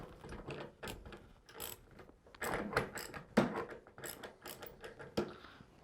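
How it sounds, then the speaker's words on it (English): A 24 mm socket wrench ratchets on a part clamped in a bench vise, giving close, quick clicking bursts with metallic knocks and brief pauses between pulls. "24 millimeter socket wrench."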